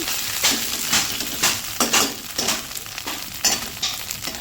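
Egg fried rice is stirred in a hot pan. A spatula scrapes rhythmically about twice a second over a steady moderate sizzle, and no one speaks.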